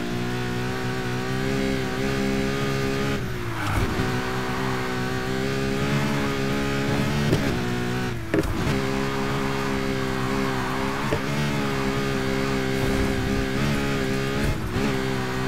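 A race car in Need for Speed Heat drives a lap, its engine roaring steadily with sustained high revs, repeatedly dropping briefly as gears shift, loud and continuous with no talking.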